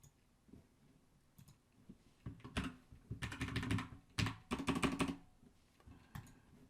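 Typing on a computer keyboard to rename a file: a close, quiet burst of keystrokes, a few scattered taps and then quicker clustered clicks, with no voices.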